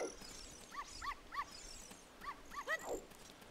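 A dog in the video game The Legend of Zelda: Ocarina of Time gives a run of short, high yips and whimpering barks, about six in quick succession, over a low steady background hum with no talking.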